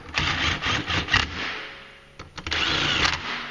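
A power tool tightens clutch cover bolts into aluminum on a 2016 Polaris General 1000, giving several short whirring bursts separated by brief pauses, close and fairly loud.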